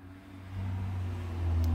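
A car, likely a sporty Vauxhall Astra VXR, drives past in the background with a low engine rumble that grows steadily louder over the short span, heard alone without talk.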